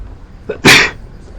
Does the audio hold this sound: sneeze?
yes